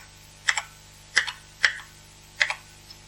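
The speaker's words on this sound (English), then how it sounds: "And I'll just type hello" Keystrokes on a 1983 Acorn Electron home computer keyboard: four separate, fairly crisp clicks spaced unevenly over a few seconds, each with a short double tap, close and alone in a quiet room.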